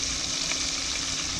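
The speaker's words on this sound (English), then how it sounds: "So we're frying chicken wings on the boat" Steady, loud sizzling of chicken wings frying in hot oil on a boat, a constant close crackle with no talking.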